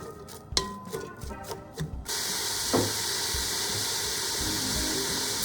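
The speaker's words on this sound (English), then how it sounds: "Then we're just gonna let the onions caramelize." Onions cooking down in a pot for French onion soup, giving a steady, close hiss of sizzling after a few clinks and stirring sounds at the start.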